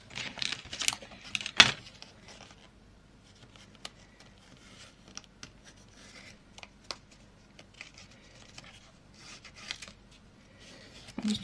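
Cutting out a traced shape for a papercraft project, with soft scissor snips and paper rustles scattered irregularly, close and quiet, no speech.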